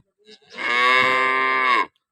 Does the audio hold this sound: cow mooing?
yes